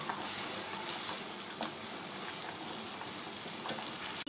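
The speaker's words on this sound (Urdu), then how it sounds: "اسی میں ہم پیاز ڈال کر فرائی کرتے ہیں" Onions frying in oil in a pot, browning for a handi kabab dish: a steady, even sizzle runs throughout with occasional louder crackles and stirring scrapes, close and without voices.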